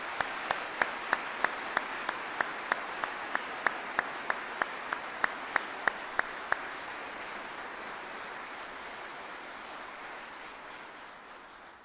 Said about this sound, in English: please join me in a round of applause for our newest American soldiers